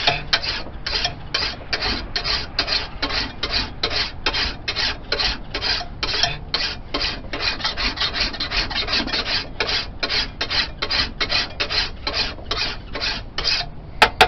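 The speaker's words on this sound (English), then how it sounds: "that's about as fine a finish as you're going to get, is draw filing the blade" A steady, rhythmic rasp of a file drawn across a forged steel patch knife blade, dozens of close, even strokes repeating without pause for over fourteen seconds.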